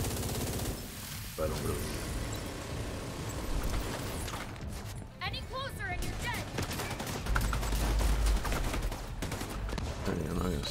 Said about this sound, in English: Minigun. Brrr.